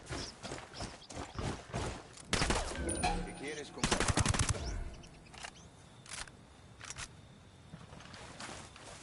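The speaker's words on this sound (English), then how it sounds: "They know we're here. Looks like some cartel soldiers are getting lit up by the rebels." Cartel soldiers and rebels trade gunfire in a video game, with scattered single shots and automatic bursts at varying distances, a heavy cluster in the middle, and quieter sporadic shots afterward.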